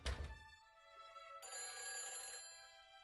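Telephone ringing in the Nancy Drew: The Phantom of Venice video game, two bright electronic bell-like rings in quick succession, clear and alone with no voices.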